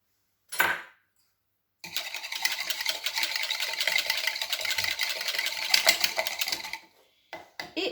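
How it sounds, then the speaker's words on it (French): Milk, water and egg being mixed in a bowl for cougnous, heard as a close, steady buzzing whir lasting about five seconds after a short knock, with a few clatters at the end. "je vais mélanger le lait, l'eau"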